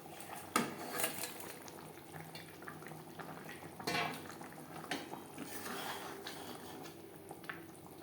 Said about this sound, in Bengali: 3-4 মিনিট গ্রেভি বেশ ভালো করে ফুটিয়ে নেব।